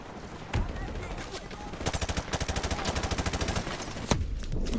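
Rapid bursts of automatic gunfire in Call of Duty: Modern Warfare Remastered, a sustained rattling volley of closely spaced shots in the middle, bracketed by a couple of louder single reports, all over a dense game battle background.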